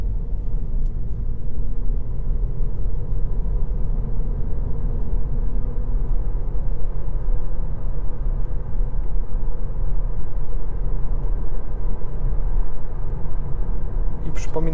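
A Kia Niro 1.6 GDI 141 hp hybrid with a 6-speed dual-clutch gearbox and narrower tyres on 16-inch rims cruises a rural road, a steady low interior road-and-engine rumble continuing evenly throughout.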